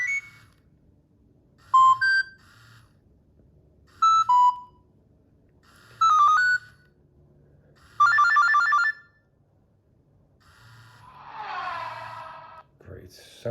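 Nokia 6600 mobile phone ringtone, a bright polyphonic melody of repeated short note bursts in an evenly spaced pattern, followed by a softer swirling phrase and a click at the end.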